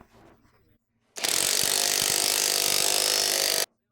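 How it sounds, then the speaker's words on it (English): A pneumatic impact wrench with a 21mm socket and extension tightens a Jeep Wrangler JK track bar bolt, one loud continuous hammering burst of about two and a half seconds after a faint, brief lead-in. "We're using the 21mm wrench along with the 21mm socket and extension on the impact to tighten the right track bar bolt."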